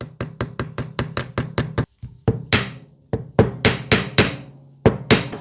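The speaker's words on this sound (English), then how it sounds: "Small hammer." Rapid series of sharp metallic small-hammer taps on a Morris Marina 1.3 Coupe Deluxe pin, about a dozen quick strikes, then a short pause and more irregular ringing blows, close and loud.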